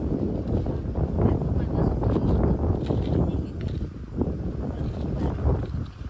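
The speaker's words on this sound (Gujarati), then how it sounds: "અહીંયા મસ્ત પવન આવે છે" Wind blows steadily across an open farm field, a constant broadband rushing and buffeting close to the microphone, with a faint voice now and then beneath it.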